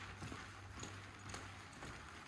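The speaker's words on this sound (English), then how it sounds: "So I'm going to ask Tough to pick up the lope" Soft, rhythmic hoofbeats of a horse loping on dirt, faint and steady in a three-beat cadence against low background noise.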